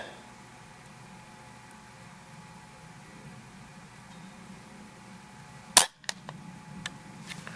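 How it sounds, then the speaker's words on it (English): An MA2 air rifle fires a single JSB pellet in one sharp, loud crack, close by, followed by a few faint ticks against a quiet background hum. "Let's see how the second shot works out."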